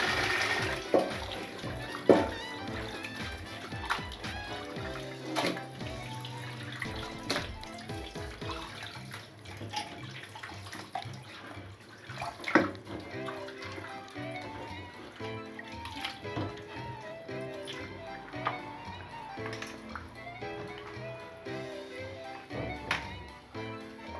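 Grains are washed three times in water in a home kitchen, with sloshing, pouring and rinsing water heard close by in uneven bursts, and faint background sounds throughout.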